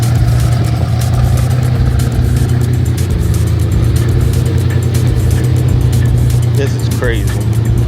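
A car engine idles with a steady low rumble and occasional revs at an outdoor art show during Miami Art Week, with crowd chatter and a person speaking over it.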